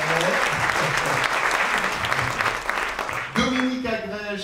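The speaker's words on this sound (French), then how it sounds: "Je vous propose de l'applaudir parce qu'il a gagné l'année dernière" An audience applauds last year's winner at an awards exchange, loud continuous clapping that cuts off sharply near the end as a voice begins speaking.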